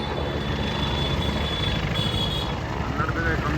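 A helicopter drones overhead as a continuous broad rumble with a steady whine above it, loud and unbroken, with faint voices mixed in.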